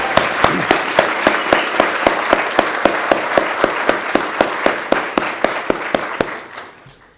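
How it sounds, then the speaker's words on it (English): Crowd clapping in a steady, even rhythm for graduates at a public safety diploma ceremony, roughly twenty sharp beats in a row that soften and trail off at the end. "let's just give a big round of applause for our graduates"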